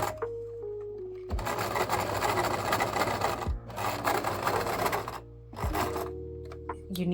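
A sewing machine stitches thin scrunchie fabric in three bursts of rapid, rasping whir, each a couple of seconds long, separated by brief pauses, heard up close.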